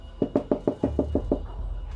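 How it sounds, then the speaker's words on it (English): Knocking at a back door, eight sharp, evenly spaced raps in a quick steady rhythm, close and distinct, followed by quiet room tone. "there was a knock at the back door."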